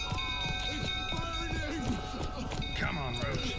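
Roach, the horse in The Witcher 3: Wild Hunt (Next Gen update, modded on PC), gallops with steady clip-clopping hooves and lets out whinnying neighs. The hoofbeats run continuously and close over a busy game soundscape, with voices in the background.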